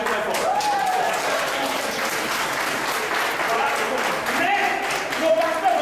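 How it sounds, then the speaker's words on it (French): A church congregation applauds loudly to welcome pastors, a dense, sustained roar of clapping with a voice speaking over it. "Le principe, c'est acclamer très fort."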